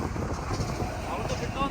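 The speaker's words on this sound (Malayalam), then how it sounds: "കാറ്റ് അപാര കാറ്റ് ഭയങ്കര അല്ലേ?" Strong desert wind roaring steadily across the microphone with a dense, rumbling, unbroken rush and no clear pauses.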